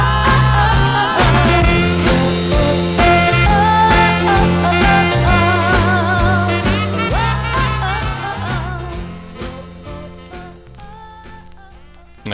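A 1965 soul 45 record on the Bell label plays loudly with a steady rhythmic band and vocals, fading gradually toward the end.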